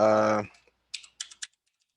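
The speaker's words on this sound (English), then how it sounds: "And I'll just type in" A voice trails off, then a few sharp keystrokes on a computer keyboard tap out in a short, sparse burst, close and clear against silence.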